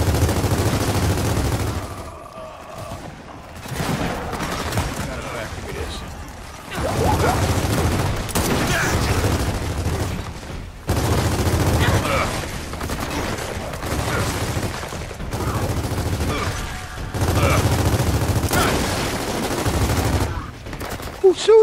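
Sustained automatic gunfire in the video game Gears of War 4, long loud bursts broken by short pauses, with heavy low rumble and occasional booms throughout.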